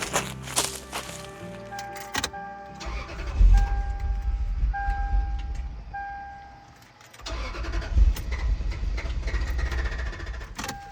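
A vehicle engine cranks but fails to start out in the wilderness after a smell of gasoline. Repeated rough starter churning is heard close by, broken by a short pause and some clicks and knocks.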